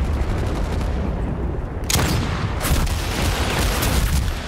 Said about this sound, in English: Oh, someone is shooting at me.